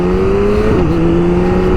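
A BMW K1600 GT motorcycle with an upgraded ECU pulls hard from first gear, its engine note climbing steadily and loud and close, with a brief dip partway through as the revs shift.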